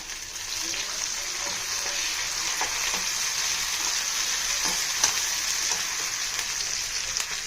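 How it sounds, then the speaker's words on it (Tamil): Curry leaves and green chillies fry in hot oil while being stirred, giving a steady dense sizzle with faint scraping strokes for mutton pepper curry. "அதுக்கப்புறம் கருவேப்பிலை போடுறோம். பச்சை மிளகாய்,"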